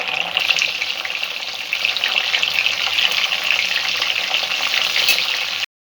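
Chhena-stuffed pointed gourds fry in a pan, giving a steady, close hiss of oil that runs unbroken for several seconds and then cuts off abruptly.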